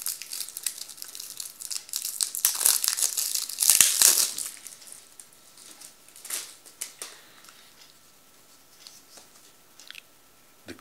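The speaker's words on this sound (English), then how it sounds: "I'm going to open this pack and see what cards" A Magic: The Gathering Aether Revolt card pack wrapper being torn open, close crinkling and tearing of foil packaging that builds to a loud crackle, then fades into softer rustles and light handling.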